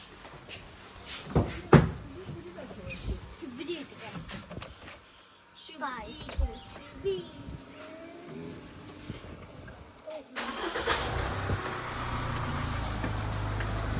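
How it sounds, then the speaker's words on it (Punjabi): A car being taken out onto a farm track: door thumps and shuffling amid people talking, then the engine starts up and settles into a steady close idle rumble. "ਤੇ ਕੱਢੀਏ ਗੱਡੀ ਬਾਹਰ"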